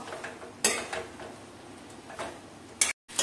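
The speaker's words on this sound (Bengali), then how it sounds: "এবার এটা আমি ভালো করে মিশিয়ে নেব।" Fried honey chicken being tossed and mixed in a wok, with scattered clinks and scrapes of a utensil against the metal pan, a few sharper knocks standing out over quiet background, close by.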